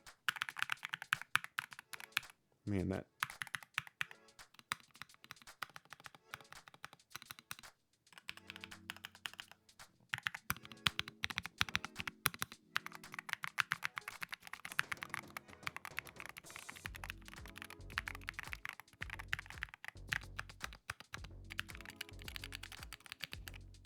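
Rapid, poppy keystrokes clatter on an Akko ACR Top 40 mechanical keyboard in continuous bursts, close and crisp, with short pauses and a few brief spoken words.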